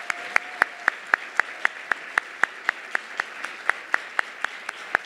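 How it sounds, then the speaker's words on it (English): Applause at the Golden Apple Awards 2018, an education awards ceremony: sharp, evenly spaced claps in a steady rhythm, sparse and moderately close, without the dense wash of a large crowd. "Can we hear another round of applause,"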